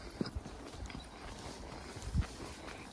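A ridden horse's hooves clip-clop faintly along an outdoor path, a few scattered soft thuds with a couple of sharper hoof strikes over quiet background noise.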